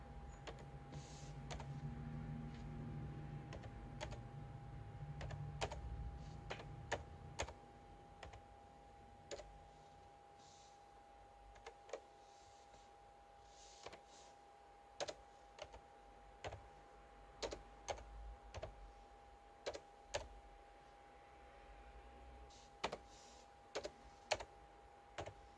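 Keystrokes on a computer keyboard, first under a low hum and then as a series of sharp, distinct clicks spaced irregularly across a quiet room, mostly alone.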